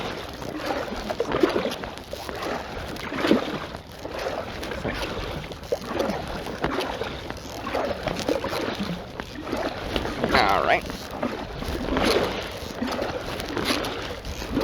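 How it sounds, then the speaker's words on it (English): A small boat is paddled across the water off a waterfront property, with steady sloshing strokes and soft splashes under gusts of wind buffeting the microphone. "let's paddle from this property"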